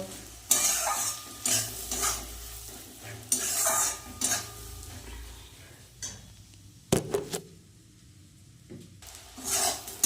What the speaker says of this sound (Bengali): পেঁয়াজগুলো এবার একটু লাল লাল করে ভেজে নেব